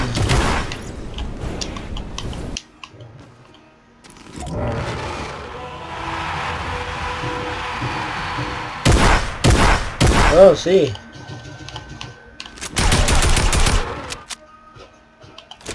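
Bursts of automatic gunfire in the game Fortnite, several sharp loud volleys separated by quieter stretches, with a brief spoken exclamation among them.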